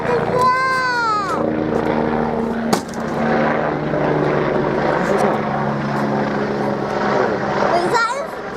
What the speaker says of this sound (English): there's that helicopter coming up there